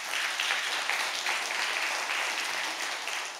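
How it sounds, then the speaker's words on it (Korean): A congregation at a Friday prayer service claps together in steady, sustained applause that fills the church hall without letup. "우리 힘내라고 박수 한번 쳐줘요"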